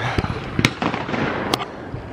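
MP5 firing, a few sharp loud gunshot cracks at uneven intervals over a noisy outdoor background, with no talk.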